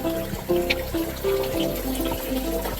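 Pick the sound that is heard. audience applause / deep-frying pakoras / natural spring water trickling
natural spring water trickling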